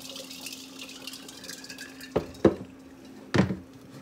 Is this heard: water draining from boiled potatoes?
yes